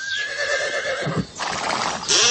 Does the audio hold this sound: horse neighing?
yes